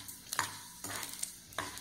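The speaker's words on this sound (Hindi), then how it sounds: "इस साबूदाने को हम इस तरह से घी में डालेंगे थोड़ा थोड़ा करके और इसे हमें तलना है" Sabudana (tapioca pearls) frying in ghee, a soft close crackling sizzle broken by three brief stirring scrapes, fairly quiet and with no voices.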